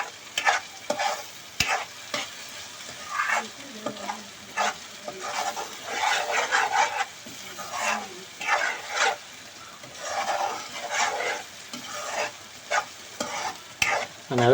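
Ginger and garlic frying and sizzling in a pan for a fish masala gravy, stirred continuously with steady scraping strokes and bursts of sizzle over about fifteen seconds, with no voices.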